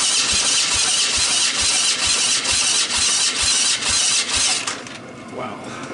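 A 1985 Honda ATC250SX three-wheeler engine cranks over slowly during a compression test, with a loud rhythmic chug repeating roughly every half second before the cranking stops and leaves a quieter background.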